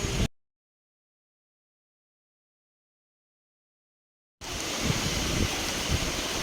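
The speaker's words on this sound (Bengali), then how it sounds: "অঝরে বৃষ্টি পড়ছে" Heavy rain pours onto a house rooftop. After a stretch of silence, a dense, steady hiss starts abruptly and continues loud and unbroken.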